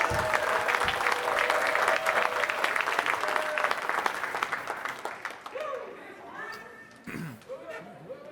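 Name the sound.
audience applause for comedian Austin Whitsitt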